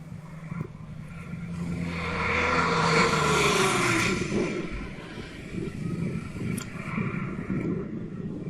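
A Boeing 747 passes extremely low over a runway, its jet roar swelling loudly to a peak near the middle and then easing off into a lingering rumble, with no talk.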